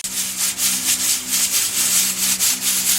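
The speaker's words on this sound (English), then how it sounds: "So some rice and peas in the pressure cooker right now." A steady, rhythmic hissing from a pressure cooker cooking rice and peas outdoors, pulsing in quick bursts over a low background hum, with no voices.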